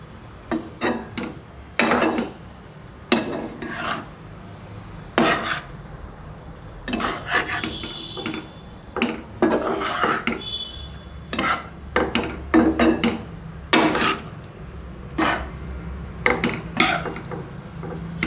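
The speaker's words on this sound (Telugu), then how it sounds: "దీన్ని ఆ టమాటా గుజ్జులో వేసేసి మళ్ళీ తిప్పుకోవాలి. ఇది బాగా కలిసే వరకు తిప్పుకోవాలి." Cabbage is stirred into tomato pulp in a pot, giving repeated scraping and rasping strokes of a spoon against the pan in an irregular rhythm, close and clear, with no voices.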